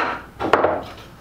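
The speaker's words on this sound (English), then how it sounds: "hand sanding." A short dry rubbing scrape of sandpaper on a wooden muskie glider fishing lure, a brief stroke or two, close and fairly quiet.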